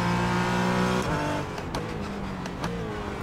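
Race cars in a sim racing game drone and whine as engines rev and shift pitch, a continuous loud engine tone with gear-change drops and no talk.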